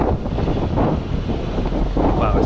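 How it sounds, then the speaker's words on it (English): Strong gusts buffet the microphone on a walk along the beach at Estepona, Spain, a loud, steady low roar with possible surf beneath, continuous for the whole stretch with no talking. "Wow, it's very windy."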